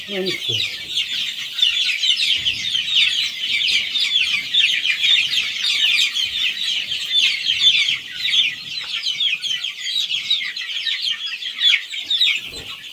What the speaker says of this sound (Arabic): جبنا 1040 فلوس كتكوت